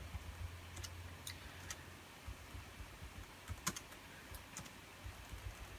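Keys on a local computer keyboard are tapped during BIOS setup of a Xeon D-1540 home lab server: sparse, quiet, irregular clicks close by in an otherwise hushed room, with no talking.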